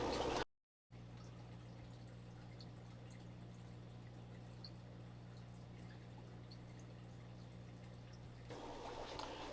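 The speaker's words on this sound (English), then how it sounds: "I'm watering the plants with the pond water, the turtle pond water, and letting it drip down" Turtle pond water dripping and trickling down a plant wall in a fish room, a soft continuous watery patter over a steady low hum, faint and even throughout.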